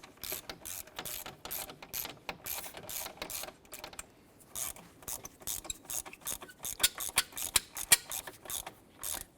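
A ratchet clicks in quick repeated strokes, close and crisp, as the upper bracket bolt is tightened on a 2011-2018 Ram 1500 during an MDS solenoid replacement, with brief pauses between bursts.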